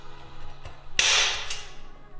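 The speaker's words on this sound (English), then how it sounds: "I have a center hole punch to help me make really nice centered circles" A single sharp metallic strike as a center punch marks metal on a Datsun 280Z, a crisp snap with a short bright decay, preceded by a few faint taps.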